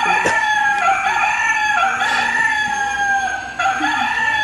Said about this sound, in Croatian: To kaže kukuriku.